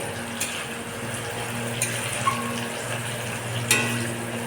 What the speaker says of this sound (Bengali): এটাকে হালকা পরিমাণে ভেজে দেবো